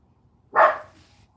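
A dog gives a single sharp, loud bark that trails off quickly, with near-silence on either side.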